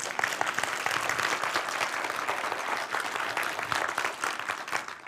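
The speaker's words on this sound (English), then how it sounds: "can you give me a big applause" Urged to clap louder, a conference audience breaks into loud, sustained applause that fills the whole stretch, a thick even patter of many hands with faint crowd noise and no talk on top.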